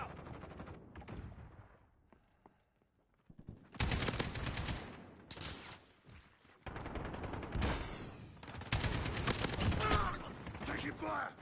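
Modern Warfare video game gunfire, rapid automatic bursts and single shots crackling in loud clusters after a quiet stretch, with a game voice briefly calling out among the shots.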